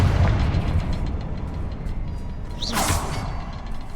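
A Confringo fire spell blasts in Hogwarts Legacy, a rumbling explosive boom with a brief whooshing swish over dense low-end game noise.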